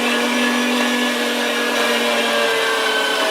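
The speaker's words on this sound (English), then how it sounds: "We're going to grind this to an 1/8-inch plate." An electric meat grinder runs steadily, grinding venison through a 1/8-inch plate, a loud, continuous motor whine with a constant hum throughout, no talking.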